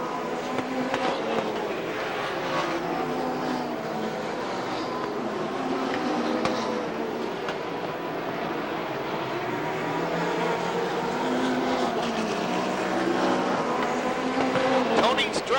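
Stock cars racing at Rockford Speedway during the 1992 ARTGO 300, a steady loud roar of several engines circling the oval with a rising and falling drone throughout and no clear break.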